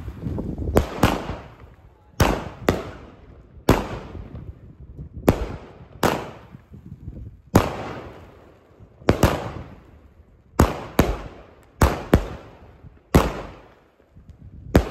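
A fireworks battery fires on New Year's Eve, around fifteen sharp loud bangs in irregular pairs and singles, each trailing into a crackling decay, with faint talk in the gaps.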